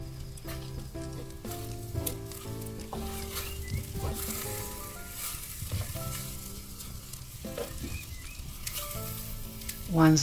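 Sliced fresh cabbage sizzling in a Dutch oven, a steady close crackle with occasional stirring scrapes, and a faint tonal hum in the background.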